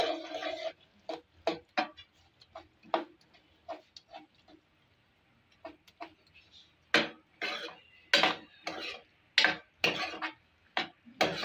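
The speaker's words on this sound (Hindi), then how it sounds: "जब आलू गल जाए तो उसको थोड़ा सा कुचल लें" Boiled potatoes being crushed in a pot, a run of soft knocking taps and clinks of utensil against metal, irregular and close, some bursts louder and quicker toward the end.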